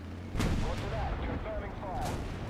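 Tank cannon fire in the War Thunder game, a Sherman and Panzer III duel, heard as a sharp booming shot followed by rumbling reverberation and a second crack, fairly faint and brief.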